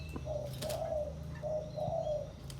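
A spotted dove coos softly in two repeated phrases of low, mellow notes over quiet background hum.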